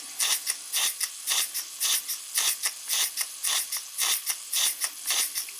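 A Jensen #5 model steam engine under load driving a fan chuffs in a steady, fairly slow rhythm, each beat a sharp hissing puff with a mechanical clatter, close and alone.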